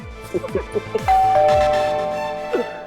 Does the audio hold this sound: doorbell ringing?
yes